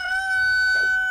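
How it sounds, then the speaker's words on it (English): An aggravated rooster gives a sharp, loud, sustained crow, a single bright strident call lasting about a second with no talk over it. "with a blasting crow, flapping his wings outward and fluttering in place"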